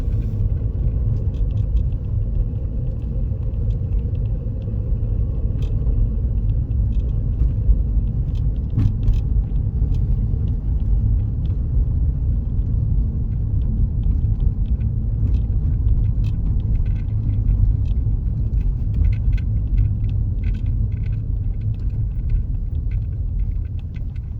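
Low, steady engine rumble and road noise from inside a 2016 Ford Fusion driving at low speed, continuous and fairly loud throughout with small clicks and rattles.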